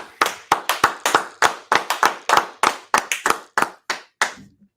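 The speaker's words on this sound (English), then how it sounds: "Let's clap it up again." Church audience clapping in unison for about five seconds, a steady run of sharp, close, evenly spaced claps that stops abruptly, with no talking over it.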